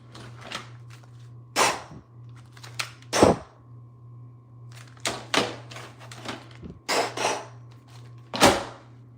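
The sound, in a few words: mouth imitation of gunshots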